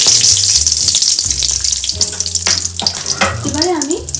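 Whole spices (cinnamon sticks, cloves, cardamom pods and bay leaves) hit hot oil for a mutton curry, raising a loud, bright crackling sizzle that carries on steadily for a few seconds with no one speaking.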